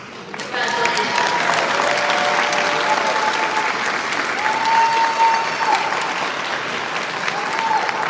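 Sustained applause from an audience at a dentistry white coat ceremony, steady and full for several seconds, with a few raised voices and a faint tone running beneath the clapping.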